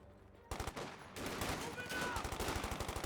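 A .50 cal machine gun hammers away in Company of Heroes 2, rapid steady bursts of heavy automatic fire that start abruptly and keep rattling with a pulsing rhythm through the battle din.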